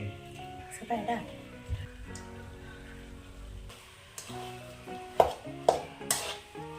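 Sardine fish pickle with salt being stirred in a pot, heard as scraping and a few sharp clinks of a spoon against metal. Near the end the clinks come in a quick cluster, while a person talks over most of it.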